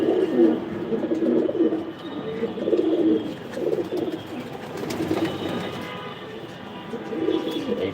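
A racing-loft pigeon coos in repeated low, rolling phrases, close and moderately loud, with a short pause in the middle and the cooing resuming near the end.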